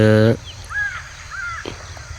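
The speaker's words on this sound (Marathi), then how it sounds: "संध्याकाळची वेळ असल्यामुळं फिरतायत" One loud, close crow caw opens at sunset on farmland, followed by fainter cawing and bird calls farther off in an open outdoor setting among coconut trees.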